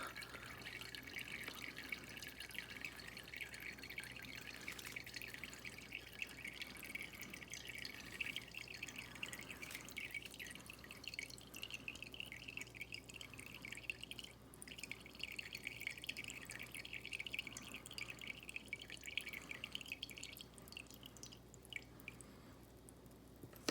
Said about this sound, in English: You heat up the can, and then the air inside would also kind of expand and push more liquid out.